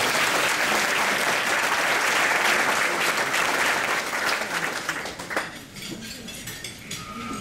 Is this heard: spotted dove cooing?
no